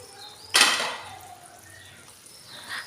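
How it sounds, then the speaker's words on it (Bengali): A metal lid lifts off a cooking pot of simmering shukto with a single sharp clank, followed by a soft fading hiss of steam and cooking. "আমি 5 মিনিট পর ঢাকনাটা খুলে নিচ্ছি।"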